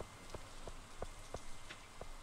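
Rain falls steadily in the farming game Stardew Valley, a soft continuous patter with small regularly spaced droplet taps, faint and even throughout with no voices.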